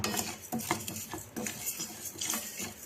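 Basmati rice dry-roasting in a pan, scraped and stirred with a utensil in quick, uneven strokes, metal scrapes and grains rattling up close with short sharp clatters, no voices.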